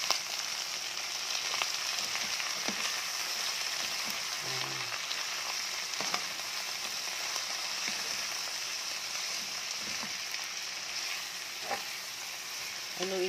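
String beans sizzle and crackle in a hot frying pan as they are stirred, a steady close frying hiss with occasional scraping and clinking knocks of the utensil against the pan.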